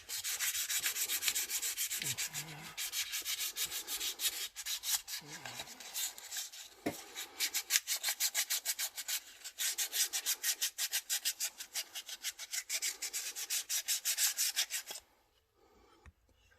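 Steady back-and-forth sandpaper rubbing on a surface being worked at 220 grit, a dense rhythmic scratching close up that runs continuously for about fifteen seconds before stopping abruptly.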